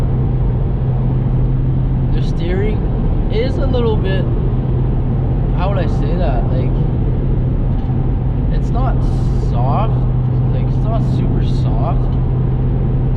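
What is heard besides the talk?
8th gen Honda Accord being driven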